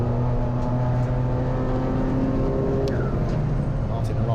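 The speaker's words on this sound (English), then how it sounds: "BMW going well, about to squeeze its way through and past what I think is Rob Adams at the wheel of the number 3 Mazda MX-5" Race cars lapping Brands Hatch during a trackday trophy race, a BMW squeezing past the number 3 Mazda MX-5, engines droning loudly and steadily with a passing whine, under continuous commentary.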